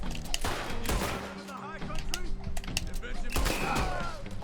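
Gunfire in the video game Red Dead Redemption 2: a fusillade of several sharp shots and thumps at irregular intervals, fairly close and loud, mixed with game music and ambient noise.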